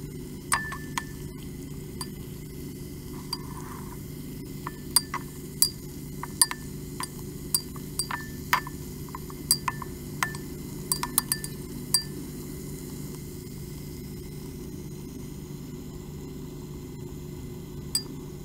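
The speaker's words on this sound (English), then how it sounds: "Use the stirring rod to mix the solution." A glass stirring rod clinks against a beaker while mixing a chemical solution in an exothermic reaction, producing scattered sharp, light taps over a steady low hum, close and quiet.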